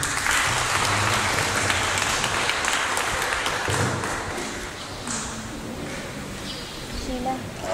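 A crowd applauds steadily and fairly loudly, a continuous wash of clapping that eases off slightly toward the end.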